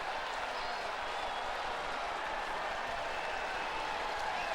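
A baseball crowd at a Cubs–Padres game cheering and applauding a home run, a dense, steady wash of distant clapping and crowd roar with a commentator talking over it.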